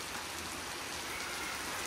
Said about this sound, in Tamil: பயங்கரமா மழை பெஞ்சிட்டு இருக்கு.